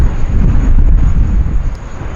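A cargo-only flight operated with a passenger aircraft arriving at Sydney Airport, heard as a loud, steady low jet roar with wind buffeting the microphone.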